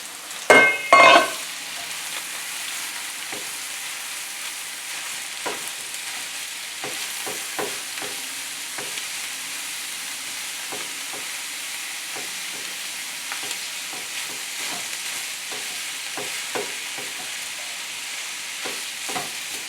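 Ground meat sizzling steadily in a hot pan with onion, part of a dirty rice dish, with scattered clicks and scrapes of stirring throughout and a couple of louder bumps near the start.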